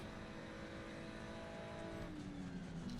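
A race car in a racing video game, its engine a steady droning whine that drops in pitch near the end as it passes, fairly faint and alone without talk.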